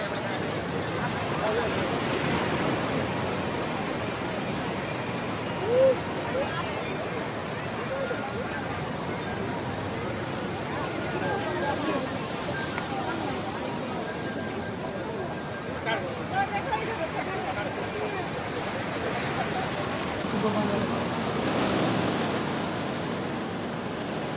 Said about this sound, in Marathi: लाटा बघा समुद्राच्या